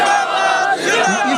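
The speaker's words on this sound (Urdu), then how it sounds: "پوری قوت سے ایک دفعہ نعرہ لگائیں تاجدار ختم نبوت" A large crowd at a Tehreek-e-Labbaik political gathering roars the slogan Tajdar-e-Khatm-e-Nabuwwat in unison, a loud, sustained massed shout with overlapping voices swelling and dipping briefly before surging again.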